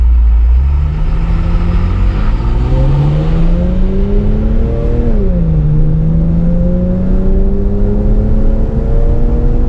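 A Porsche 911 with a Fister aftermarket exhaust revs and accelerates up close, its exhaust note rising steadily in pitch with a brief dip as it shifts, loud and alone.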